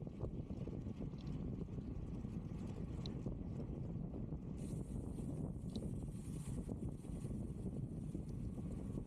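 Strong wind rushing past the microphone while riding a bicycle on a desert cycle track, a constant loud low roar with gusty buffeting and no voices.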